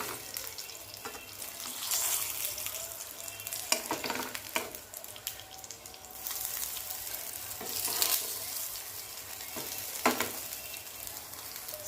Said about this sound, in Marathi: आता 4च फ्राय करून घेते मी.